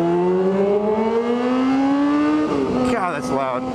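A motorcycle idling and revving with the muffler removed, running on just the up pipe, gives a loud, raw, rising drone that climbs steadily, then drops with sputtering bursts near the end.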